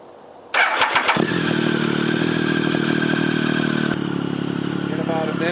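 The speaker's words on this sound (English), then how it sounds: "just give it a quick start, a quick turnover, just to get the oil" A 2008 Triumph Tiger motorcycle engine started from cold turns over briefly with a few cranking pulses, catches abruptly and settles into a loud, steady idle close by.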